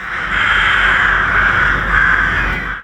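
Dense chorus of crows cawing continuously in a town park where they nest in the trees, loud and close, a harsh unbroken wall of calls with no talk.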